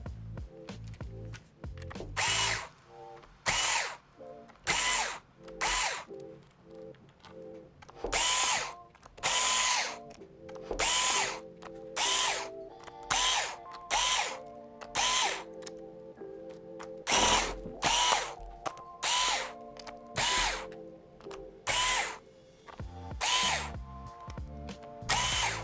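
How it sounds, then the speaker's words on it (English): A power screwdriver backs out screws from the palm rest of a Lenovo 300E Chromebook, with many short whirring bursts repeating in an irregular rhythm and brief pauses between them, close and without talk. "we can remove all of the screws in the palm rest"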